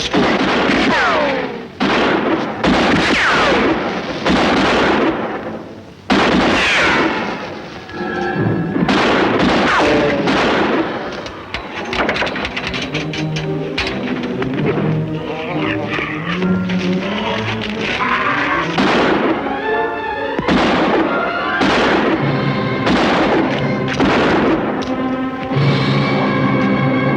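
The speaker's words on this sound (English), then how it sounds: "What are they shooting at us for?" Dense gunfire and booming explosions from a film battle scene, loud and sustained, with repeated sharp cracks piling over a continuous rumbling roar.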